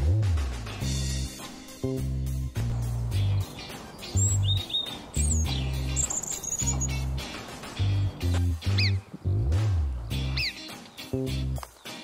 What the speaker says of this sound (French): Allons voir les oiseaux et les autres animaux.